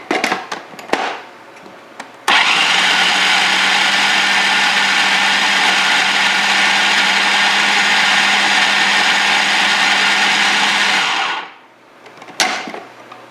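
A blender whirs loudly and steadily for about nine seconds as it purees raw chili with avocado, starting abruptly after some clattering and cutting off with a falling whine, followed by a few handling knocks.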